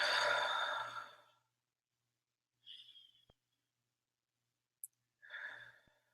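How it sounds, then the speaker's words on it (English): Slow, deep breaths heard up close and quietly: a long exhale, then softer inhales and exhales separated by silent pauses, with a faint click between. "Deep breaths."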